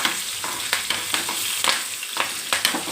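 Curry leaves hit hot oil that already holds asafoetida powder, giving a loud, bright, crackling sizzle close up. Sharp spits and pops recur about every half second, with no voices.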